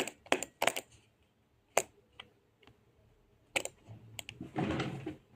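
A computer mouse clicks in short, sharp, scattered bursts, some single and some in quick pairs, close and fairly quiet with no talk.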